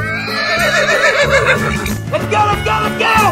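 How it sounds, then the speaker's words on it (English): A horse neighs with a loud, wavering whinny that rises and trembles, then a second shorter whinny follows, with music playing underneath. "Horse."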